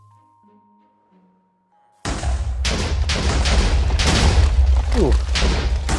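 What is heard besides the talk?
explosives going off in a Minecraft video game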